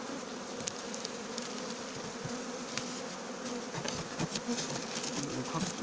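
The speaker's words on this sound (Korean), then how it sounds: "지금 벌이 많이 나와 있기 때문에" Honeybees buzz steadily around an outdoor hive in spring, a dense, continuous hum of many insects close by with occasional louder passes near the ear.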